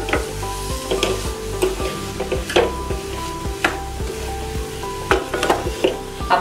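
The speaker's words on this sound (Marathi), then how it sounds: "मधून मधून घाटत राहायचं।" Coconut and jaggery modak filling cooking over low heat in a pan, with a spoon stirring and scraping in a repeated rhythm over a steady sizzle, close and fairly loud.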